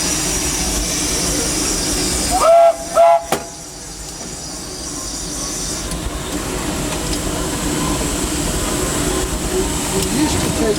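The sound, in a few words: Disneyland Railroad steam locomotive, heard from inside the cab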